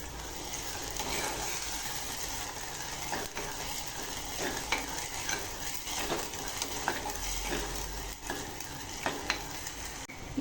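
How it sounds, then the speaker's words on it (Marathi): Ground masala paste sautéing in oil with tomato for a spicy drumstick curry, a continuous close sizzle with soft stirring scrapes and occasional clicks of a spoon against the pan, no talk. "आता तयार केलेलं वाटण 2 ते 3 मिनिटं परतवून घ्यायचं आहे"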